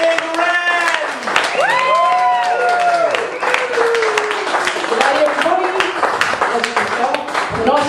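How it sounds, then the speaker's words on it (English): A comedy club crowd claps and cheers as a comedian is welcomed to the stage, with a host's amplified voice and whoops carrying over steady applause throughout. "More applause than that."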